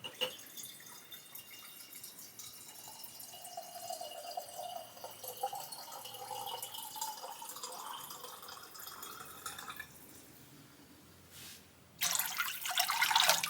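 Water runs steadily into a soup pot holding broth, a soft trickling stream with drips, then a louder, brighter gush of flow near the end.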